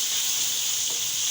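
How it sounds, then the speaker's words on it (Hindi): Chicken frying in a pot for deghi-style palak chicken, giving a steady, loud, close sizzling hiss with no pauses or voices. "अब जो है हम साथ चिकन भी ऐड कर देंगे ताकि जो है वो चिकन भी अच्छी तरह से भून जाए"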